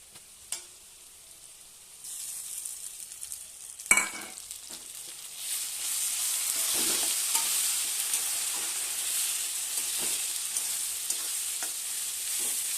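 Spices sizzle and fry with browned onions for a meat and potato curry, starting with a few clattering stirs, then a steady, fairly loud crackling hiss as the mixture is stirred in the pan.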